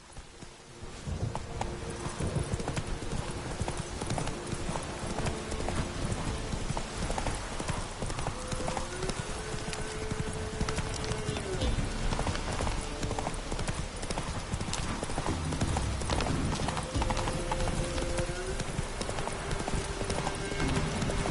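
Horse hooves clip-clopping in a steady, brisk rhythm throughout, loud and close, with a tonal musical line running underneath the hoofbeats.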